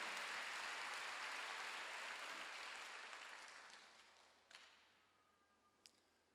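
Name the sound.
congregation applauding in church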